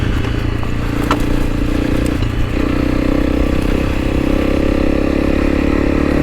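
A Honda CRF300L rally motorcycle ridden off-road over berms, its single-cylinder engine droning loud and steady close up with a shifting pitch, plus faint clatter from the rough terrain.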